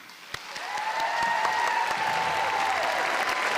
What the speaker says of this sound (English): let's give them all another big round of applause right now.